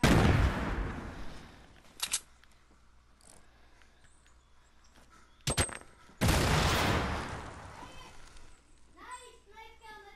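Gunfire in Fortnite, with loud bursts of shots at the start and again around the middle, a few sharp single cracks between them, and a voice talking near the end.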